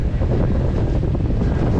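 Strong wind gusting over the fine-sand dunes of Patara beach, a loud continuous rumbling buffet against the microphone, alone and unbroken throughout.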